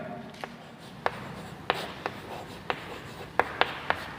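Pen or marker scratching across paper or a board while working out a maths solution, with a series of short strokes and taps at irregular intervals, fairly close and quiet, no speech.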